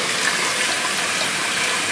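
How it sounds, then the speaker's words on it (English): Cold tap water runs steadily for a home-brew cooling step, a loud, even broadband rush of water that stays unchanged throughout with no talking. "Just leave the water on. Cold water cools it right down."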